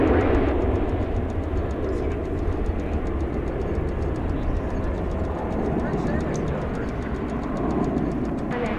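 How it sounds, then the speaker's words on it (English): An American Airlines Airbus A321 in Stand Up to Cancer livery, arriving from San Antonio, comes in at DFW Airport with a steady, fairly loud broadband roar that holds for the whole stretch, with faint talk underneath. "it's an Airbus A321 American Airlines with the Stand Up to Cancer livery"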